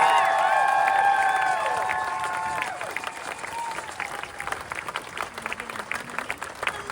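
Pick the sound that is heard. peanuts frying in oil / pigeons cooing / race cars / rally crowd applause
rally crowd applause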